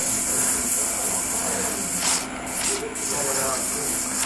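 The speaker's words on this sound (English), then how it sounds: "spray bottle spits" A spray bottle sprays alcohol in a woodworking shop, giving a steady close hiss with a couple of brief bursts partway through.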